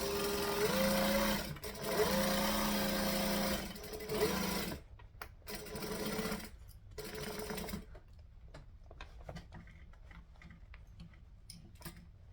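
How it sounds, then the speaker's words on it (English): A sewing machine stitches a triangle bag point to point with a back stitch, running in steady loud bursts with short pauses, then slowing into lighter, intermittent stitches and ticks as the bulky corner is worked. "So I'm going to go point to point, stitch, back stitch."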